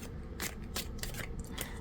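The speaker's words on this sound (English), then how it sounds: "So as I'm shuffling very quickly" Tarot cards being shuffled quickly by hand, a run of crisp riffling bursts in a quick irregular rhythm, close and fairly quiet in an otherwise calm room.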